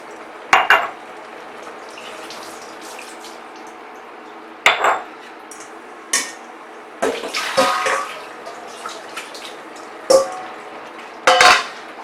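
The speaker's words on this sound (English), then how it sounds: "I'm just going to run it under the tap as well" Warm tap water runs steadily over items being rinsed in a kitchen sink after washing off bicarb, with several sharp clinks and clatters of the items knocking against the sink.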